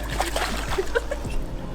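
An Italian greyhound splashes into a backyard swimming pool, a short burst of churning, sloshing water close by with faint background voices.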